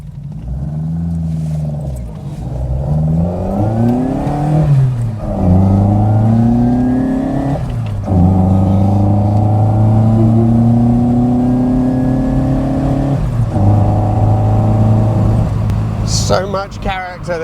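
A Fiat 131 Abarth twin-cam engine revs hard up through the gears, loud and close, each pull rising in pitch before dropping back at the shift.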